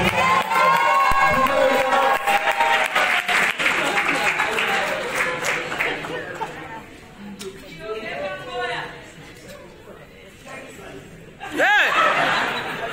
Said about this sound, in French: Est-ce qu'on peut applaudir bien fort pour ça?